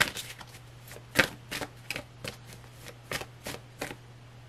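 Tarot cards are shuffled in a quiet room, giving a series of about a dozen soft, crisp riffles and flicks spaced at uneven intervals over a faint steady hum.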